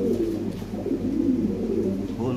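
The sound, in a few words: Lahori pigeons cooing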